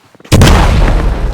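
A firecracker set off at a petrol pump in the PC game Firework Simulator, a single loud, booming blast after a moment of near silence, its rumble trailing off over about a second.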